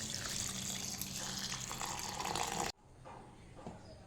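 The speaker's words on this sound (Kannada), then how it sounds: "ಇವಾಗ ಇದಕ್ಕೆ ಬೇಕಾದಷ್ಟು ಉಪ್ಪು ಮತ್ತು ನೀರನ್ನು ಹಾಕ್ತೇನೆ." Water is poured into ground-masala ingredients, along with salt, before grinding for a village-style punde gasi curry: a close, steady splashing pour that runs for under three seconds and then cuts off, followed by faint drips and small knocks.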